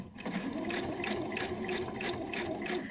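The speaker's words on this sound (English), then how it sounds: "I'm going to back stitch it" A sewing machine back stitching a 1/4 inch seam on a bowl cosy, running with a steady rapid needle clatter and motor hum, close and fairly quiet, with no talking.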